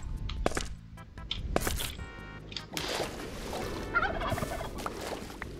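A turkey gobbles repeatedly in the Minecraft RLCraft modded game, rapid rattling calls up close, alongside splashing water and footsteps.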